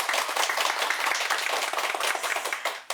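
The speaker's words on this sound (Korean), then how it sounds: "오늘도 열정적으로 강의해 주신 신부님께 큰 박수 부탁드립니다" An audience at a Catholic lecture on the Book of Revelation applauds the priest who gave it, with a few seconds of brisk, dense hand clapping that fades at the end.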